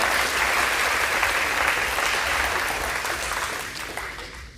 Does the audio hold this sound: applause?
yes